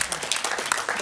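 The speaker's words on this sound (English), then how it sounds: "Round of applause for Kate" Brief burst of audience clapping at the Mainframe Awards 2019 ceremony, a dense run of hand claps filling barely a second at moderate level.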